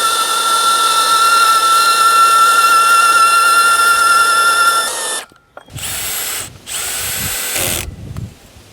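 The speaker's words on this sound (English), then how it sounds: "we got the drill driver clutching out so that we don't overdrive these" Cordless drill driver running steadily for about five seconds while driving screws into a composite deck railing, followed by shorter bursts as the clutch slips, loud and close with no talking.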